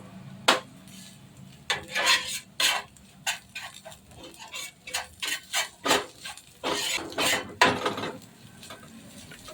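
Metal spatula scraping and clattering against a pan while egg and masala are stirred and sautéed for egg rice, in repeated quick strokes close by with no talk.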